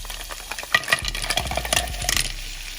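Clams tumbling into a pan of sizzling garlic, a burst of clattering shell clicks and rattles over a low fry, settling into scattered taps.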